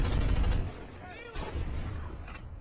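Gunfire crackles in the war shooter Medal of Honor, a short burst of shots at the start, then a quieter gap and more distant shooting, with someone talking over it.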